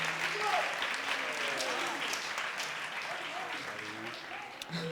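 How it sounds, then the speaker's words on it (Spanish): An audience at a gala event claps steadily in applause for Antonio, a dense sustained patter of many hands with voices murmuring underneath. "Le damos un aplauso fuerte, por favor."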